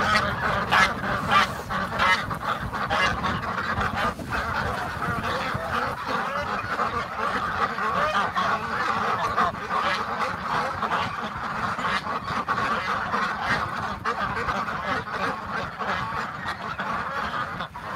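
Many geese and ducks honk and quack together in a steady, dense chorus in January snow, close by and continuous throughout.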